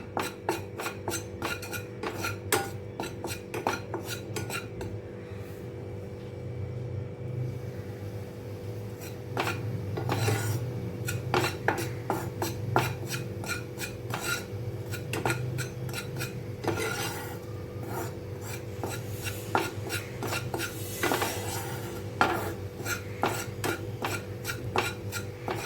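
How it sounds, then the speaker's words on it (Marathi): Gram flour (besan) roasting in a pan as a spoon stirs and scrapes, with repeated metallic clinks and rasping scrapes against the pan over a steady low stove hum, close and continuous. "थोडंसं भाजून घ्यायचं, गरम करून घ्यायचं आपल्याला हे बेसन."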